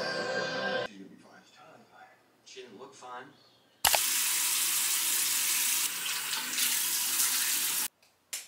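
Tap water runs steadily into a sink during washing up, a loud even rush that stops abruptly, following a brief stretch of talking.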